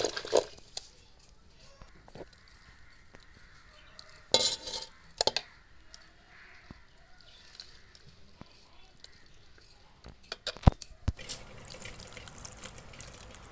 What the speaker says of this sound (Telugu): ఇలా వాటర్ వేసి మళ్ళీ ఒకసారి క్లియర్గా కడుక్కొని దీంట్లో డస్ట్ ఏమైనా ఉంటే బయటకు వచ్చేది